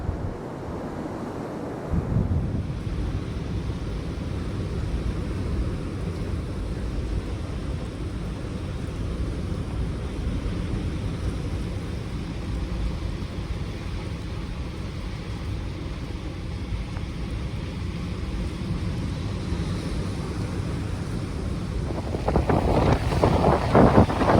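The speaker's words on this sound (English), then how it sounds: "You can see the waves are really racing up the beach now." Storm waves surging up the beach at Ventnor on the Isle of Wight at night, with strong wind buffeting the microphone; a steady, heavy roar of surf and gusts that swells louder near the end.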